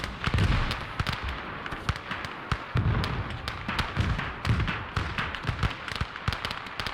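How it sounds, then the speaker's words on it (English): Artillery guns firing in the WWII strategy game Call to Arms: Gates of Hell, a dense, continuous run of sharp bangs and heavy thumps layered over a rumbling battlefield din, loud and close. "Felt like only one gun fired there"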